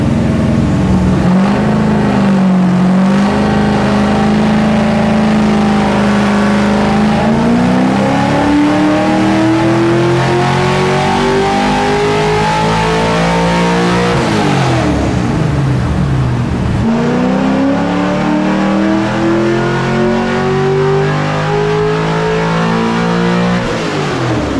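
A 416ci LS stroker engine on a dyno with its air filter dry bag removed roars loudly and continuously, climbing through revs in long sweeps, dropping briefly, then rising again.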